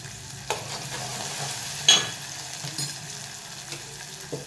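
Ridge gourd stir-frying in a pan: a steady low sizzle with occasional spatula scrapes and one sharper clink, close by and without talk.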